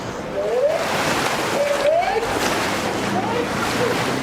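Rowing boats splash at the start of the Britannia Cup final at Henley in 2017. A continuous, close rush of churning water runs under a commentator's voice.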